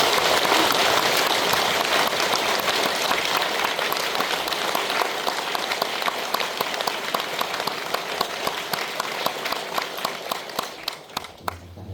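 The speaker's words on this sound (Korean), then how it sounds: "신 목사님 나오실 때 박수로 환영해 주시기 바랍니다" A church congregation at a special dawn Thanksgiving prayer meeting claps steadily to welcome a pastor, a dense, sustained applause that fills the room and thins out toward the end.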